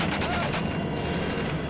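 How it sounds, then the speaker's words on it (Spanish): Rapid bursts of gunfire from the ground in Somalia rattle continuously through the clip, a dense fusillade blending into a steady, noisy roar. "Fue entonces cuando comenzaron a recibir disparos desde tierra."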